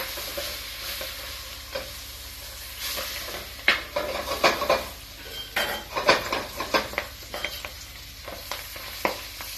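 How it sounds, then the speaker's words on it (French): A capon browns in a pan, its steady sizzle joined by repeated metal utensil scrapes and clanks against the pan, close up and growing busier in the second half. "Là, on va laisser cuire. Le chapon, on va bien le colorer."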